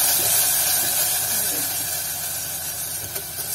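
A pack of cream poured into hot homemade caramel for banoffee pie sets off a loud, continuous steamy hiss close by that slowly eases, with a voice talking over it.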